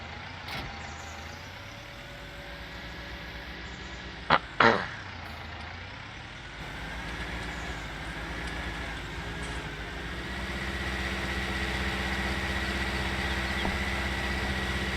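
Tractor engines in the Farming Simulator 19 video game idle with a steady low drone, broken by a couple of sharp clicks before the rumble resumes and builds slightly, fairly loud and close with no speech.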